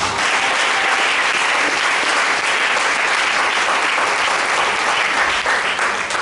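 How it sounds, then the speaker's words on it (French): A church congregation at an Easter service applauds loudly and continuously, a dense, even roar of clapping hands that lasts throughout. "Acclame Jésus."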